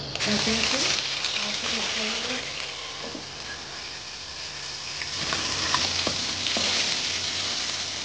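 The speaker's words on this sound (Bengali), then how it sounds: "কড়া গরম হয়ে গেছে, এরপর আমি একটু কড়ায় সর্ষের তেল দিলাম।" Mustard oil hitting a hot wok (kadai), a steady close sizzle and frying hiss running throughout with a few faint clinks, no talking.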